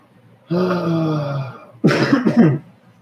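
A held humming vocal tone, then a rough throat-clearing cough with a couple of bursts, close and fairly loud.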